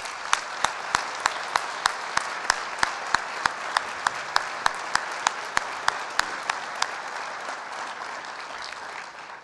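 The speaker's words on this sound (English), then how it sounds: "give all of our student athletes just one more round of applause" Audience applause at a university athletics awards and hall of fame ceremony honoring student athletes, a sustained round of clapping with a few sharp, distinct claps standing out near the front.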